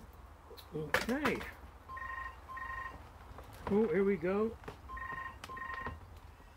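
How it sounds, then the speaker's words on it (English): A telephone rings from indoors in two double bursts of paired tones, heard at a moderate distance with someone talking briefly between them over faint outdoor background noise. "Phone's ringing indoors, but I can't go there yet."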